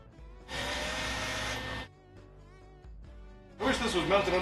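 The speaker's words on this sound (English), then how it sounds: "Gonna drill through." A power drill whines loudly for about a second, stops, then bites in again with a rougher grinding tone as it bores through wood.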